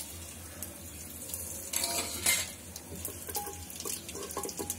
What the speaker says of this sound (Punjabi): ਤੇਲ ਸਾਡਾ ਗਰਮ ਹੋ ਗਿਆ, ਹੁਣ ਇਹਦੇ ਵਿੱਚ ਜਿਹੜੇ ਆਪਾਂ ਸਾਬਤ ਮਸਾਲੇ ਲਏ ਆ ਇਹ ਸਾਰੇ ਆਪਾਂ ਇਹਦੇ ਵਿੱਚ ਪਾ ਦੇਣੇ ਆ